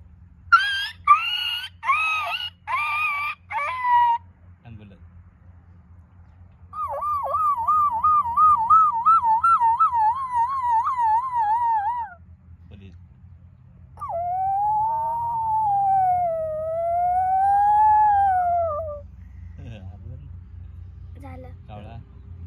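A person imitates a dog howling in a run of drawn-out, wavering vocal wails, loud and close, starting after a burst of short voiced yelps and ending in a long rising and falling howl.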